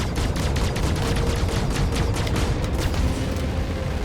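Rapid, dense gunfire from spaceship cannons during a dogfight in Star Citizen, a steady loud rattle of overlapping shots with no pauses, heard alone without talk.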